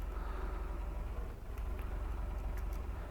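Tractor engine idling in the video game Farming Simulator 22, a steady low rumble with a faint mechanical hum, quiet and unbroken for a few seconds.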